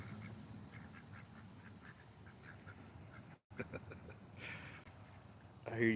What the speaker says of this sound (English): It's a duck race.